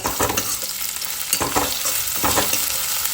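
Chili powder and green chilies fry loudly in hot oil with a dense, close sizzle, broken by rhythmic scraping stirs at regular intervals.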